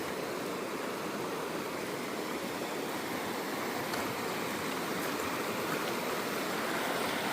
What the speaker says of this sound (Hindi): अब फिर नदी आ गई दोस्तों